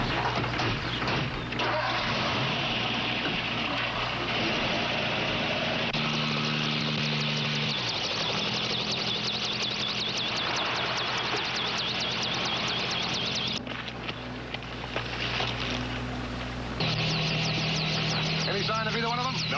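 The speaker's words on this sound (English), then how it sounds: "He and I'll take a look for him in the chopper." Helicopter engine running with a steady droning whine and rotor hum throughout, shifting in pitch and intensity, with voices talking over it.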